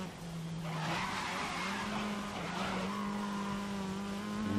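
Race cars skid and squeal their tyres through corners in the video game GRID (2019), with engines whining and screeching slides rising and falling across the clip.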